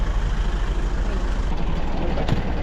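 A bus engine idles at a stop in the Tatra mountains in Poland, giving a steady low rumble that runs unbroken and fairly close. There is a faint brief knock near the end.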